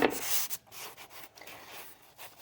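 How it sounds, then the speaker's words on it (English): Close, faint scratchy rubbing of a blade cutting a small rectangle out of styrofoam for a valentine craft, in short squeaky strokes with tiny pauses between them. "I'm just kind of cutting this little rectangle out of this styrofoam."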